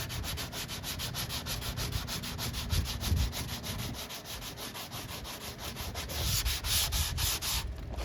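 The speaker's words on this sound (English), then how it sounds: "take your round block here, 180 grit, same thing. Just try to work it back and forth" A round sanding block with 180 grit paper rubbed back and forth over primer on a Plymouth Scamp car body, a continuous close scratchy rasp in rapid even strokes, loud and alone.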